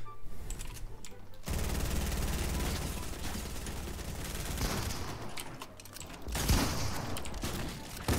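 Rapid gunfire from Fortnite, dense sustained bursts of automatic shots in a 1v1 fight, continuous and loud across the clip with a heavier burst near the end.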